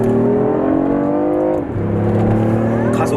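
A BMW i8 Roadster in sport mode accelerates from about 50 km/h, its engine tone climbing steadily, dipping briefly at a shift and then rising again, loud and close from inside the cabin.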